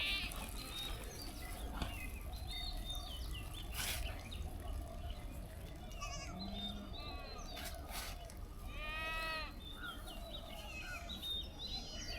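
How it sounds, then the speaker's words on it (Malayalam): Young goats bleat faintly in a field, with a few short, distant cries and one clearer wavering bleat standing out over a steady outdoor hum and scattered bird chirps. "അവിടേക്ക് കുറേ ആട്ടിൻകുട്ടികൾ വന്നിട്ടുണ്ട്"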